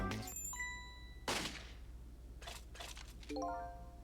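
A bicycle bell rings in the Ghost Trick video game, giving bright, tinny dings at the start and again near the end, separated by a sharp crack and a few softer clicks.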